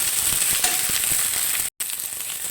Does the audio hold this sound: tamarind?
yes